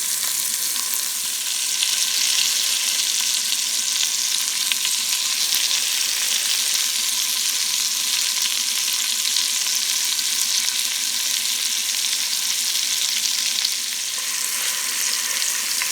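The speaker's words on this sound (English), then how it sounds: "we're not cooking our meat, we just want to sear it" Pork carnitas searing in a hot pan give a steady, close, loud sizzle and crackle of frying fat that runs unbroken throughout, with no talking.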